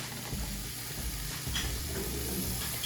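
Two tablespoons of butter sizzling steadily in a pan as it melts, a constant close hiss with light stirring scrapes and no talking.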